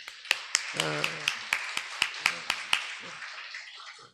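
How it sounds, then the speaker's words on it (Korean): About a dozen sharp hand claps land in an even rhythm during a Sunday church sermon, honoring a deacon, while a voice briefly speaks between them before the claps fade out. "우리 이병진 집사님에서 박수 한번 쳐줘요"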